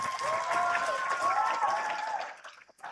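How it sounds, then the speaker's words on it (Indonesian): An audience at an Islamic boarding school event applauds in a dense, steady wash of clapping. It holds for about two seconds, then thins out and fades. "Tepuk tangan."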